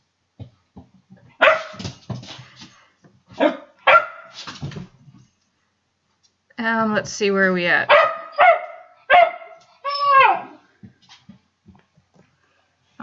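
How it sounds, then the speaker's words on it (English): A dog barks repeatedly in short bursts and yips somewhere nearby, the barking falling between stretches of a man's speech. "I hope the barking dog has stopped"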